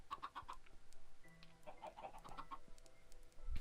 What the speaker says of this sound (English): I better not forget about these chickens.